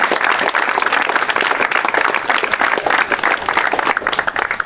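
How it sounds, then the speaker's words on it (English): Audience applause at a tennis complex dedication ceremony honoring the Blackburn family, a dense, steady clapping from a sizable crowd sustained loudly throughout. "Let's give a round of applause to them."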